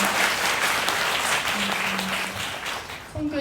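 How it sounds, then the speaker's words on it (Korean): A church congregation applauds during a worship service, a dense, steady wash of many hands clapping at once that thins and fades toward the end. "우리 하나님께 또 박수를"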